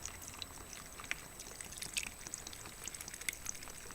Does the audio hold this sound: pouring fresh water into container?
yes